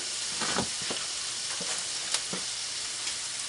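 Onions and garlic sizzle steadily in a pan for sausage gravy, with scattered scraping taps as they are stirred around; close and continuous, without talk.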